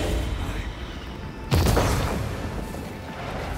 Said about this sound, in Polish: Coś mi tu wybucha cały czas.